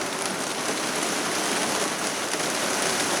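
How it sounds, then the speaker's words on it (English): A heavy rain shower pours down in a dense, even hiss that stays loud and unbroken throughout, with no voices over it. "that was a hard shower"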